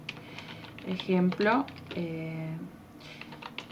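Keys clatter on a computer keyboard as a name is typed, the light tapping running under someone speaking Spanish.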